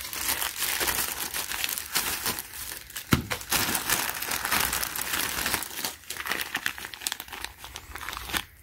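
Crinkling and crumpling of a plastic cover from a Portland electric 1.5 peak HP pole chain saw being handled, a steady close-up rustle with sharper crackles throughout, no talking.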